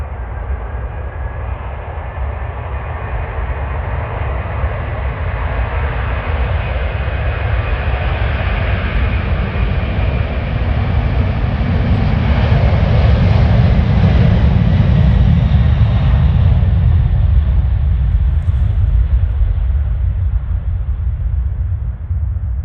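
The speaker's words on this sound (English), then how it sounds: "Here, we'll watch this airplane take off." A loud, sustained jet engine roar swells as a Kalitta Air airplane takes off on a rainy day, rumbling continuously with no voices.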